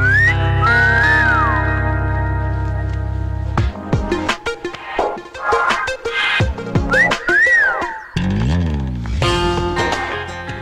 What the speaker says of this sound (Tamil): உனக்கு விசில் அடிக்க தெரியும்ல, உதடால ஓ போட்டு அப்புறம் விசில் அடிக்கணும்.